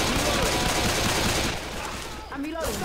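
Dense, loud gunfire and chaotic combat noise from Left 4 Dead 2 fill the first half, easing slightly later as someone speaks over the din.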